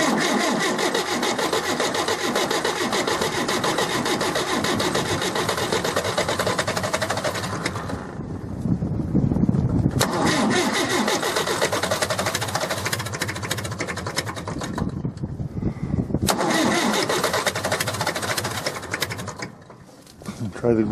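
An International B 275 tractor's diesel engine cranks over in a cold start, a loud continuous starter grind that pauses, then resumes with a steady droning rhythm, a brief lull near the end.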